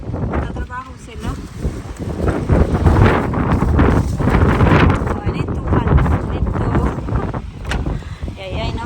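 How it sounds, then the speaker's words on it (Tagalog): Strong gusts buffet the microphone outdoors on a mild, warm day in the UK, a continuous roaring rumble that swells and eases while people talk nearby. "Kahit na mahangin, yung hangin hindi siya masyadong malamig"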